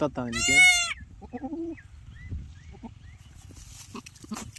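A mother goat that has just given birth to three kids bleats loudly and harmonically near the start, followed by fainter animal sounds and low rustling in a farm setting.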